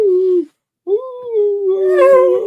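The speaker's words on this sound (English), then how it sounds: "He'll howl a little bit" A dog howls loudly and close by in long wavering tones, breaking off once and then rising again into a fuller, more intense howl.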